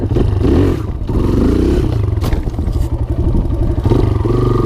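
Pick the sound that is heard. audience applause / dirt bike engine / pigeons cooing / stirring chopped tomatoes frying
dirt bike engine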